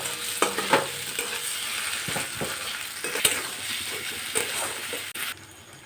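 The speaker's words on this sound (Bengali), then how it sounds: "আদা কাঁচা লঙ্কা বাটা দিয়েও ভেজে নেব কিছুক্ষণ" Onion frying in a pan with ginger and green chilli paste, a steady close sizzle under repeated stirring scrapes and a few sharper spatula knocks against the pan.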